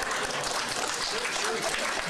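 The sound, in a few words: audience applause at press conference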